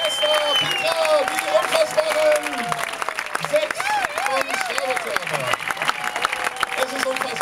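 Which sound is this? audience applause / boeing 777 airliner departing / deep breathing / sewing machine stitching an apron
audience applause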